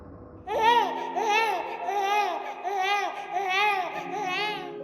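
A baby's crying sound effect in a spoken horror story, with loud repeated wailing, babbling cries that rise and fall in short waves and seem to draw closer.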